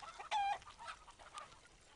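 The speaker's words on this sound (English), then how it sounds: "This is the mother hen, and this is the baby." A mother hen gives a short, sharp cluck, followed by a few faint, softer clucks from the hen and her chick in a quiet setting.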